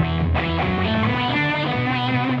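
A distorted guitar note through a Solid Gold FX Lysis MK2 pedal on square-wave modulation pulses with a steady choppy on-off effect, loud and continuous with no voices.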